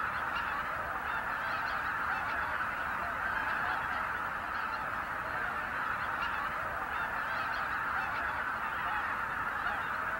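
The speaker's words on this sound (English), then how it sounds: "It is a flock of greater white-fronted geese." Flock of greater white-fronted geese flying in V formation high above a lake in Hokkaido, Japan, giving a dense continuous chorus of overlapping honks that stays fairly faint and distant throughout.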